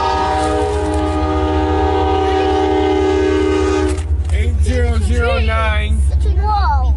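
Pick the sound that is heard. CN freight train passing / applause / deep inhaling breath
CN freight train passing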